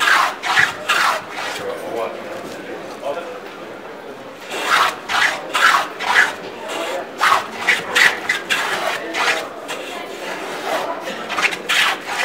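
Moving fillister plane cutting a tenon in wood, rhythmic rasping strokes repeating one after another, close and clear, with a quieter pause before the strokes resume.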